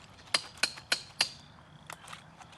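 A hammer drives a chisel to chip old mortar off bricks at a 150-year-old manor in Iowa: four sharp, evenly spaced metallic strikes, followed by a few fainter knocks, close and alone.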